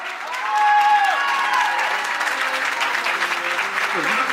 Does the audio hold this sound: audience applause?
yes